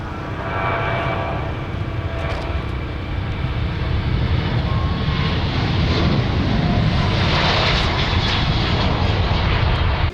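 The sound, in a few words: Ukraine International airliner taking off at Lviv airport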